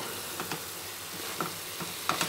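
A coconut and jaggery laddu mixture is stirred in a pan over medium heat, with a soft sizzle and a few faint scrapes of the spoon, quiet and without speech.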